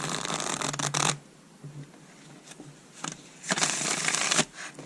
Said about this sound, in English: So let me try to shuffle this over the camera.